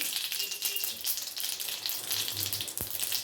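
Mustard seeds and asafoetida sizzle and crackle steadily in hot oil, a close, continuous frying hiss with a few sharp pops and no talking.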